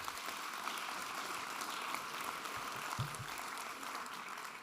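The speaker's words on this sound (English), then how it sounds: "Let's give them a big round of applause." Faint, steady applause from an audience at a high school student-athlete signing ceremony runs throughout, distant and even, with a few soft thumps underneath.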